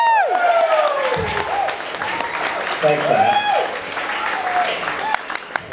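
Audience at a Nerd Nite NYC talk night applauding the speaker, steady sustained clapping filling the room throughout, with someone speaking briefly over it.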